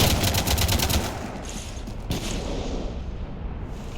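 Rapid gunfire in Mass Effect 3 rakes a ship, a dense burst of loud shots up front that thins into a rumbling wash of impacts and echo over the remaining seconds.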